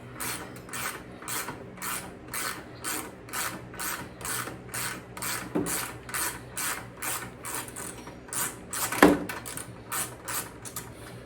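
Steady, evenly spaced ratchet clicks from a 12mm socket loosening a bolt on a 2008 Honda Shadow Aero 750 shaft-drive motorcycle, fairly quiet and close, with a couple of sharper knocks partway through.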